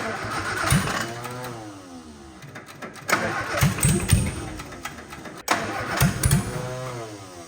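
An old Austin Healey engine cranks repeatedly with the choke pulled, trying to start but not catching, in three loud rhythmic cranking bursts separated by brief pauses.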